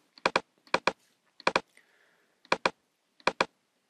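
Computer keyboard keys and mouse buttons clicked while colouring an illustration in Adobe Illustrator CC 2018: five crisp paired clicks spaced out over a few seconds, close and clear, with no talk.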